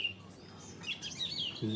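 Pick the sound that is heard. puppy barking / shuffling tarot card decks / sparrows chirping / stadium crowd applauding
sparrows chirping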